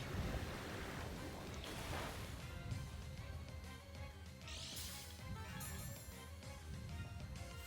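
Muddy Water move effect from a Pokémon video game battle plays as a loud, rushing watery surge, with crashing wave-like noise and bright splashing bursts layered over a dense roar, no voices.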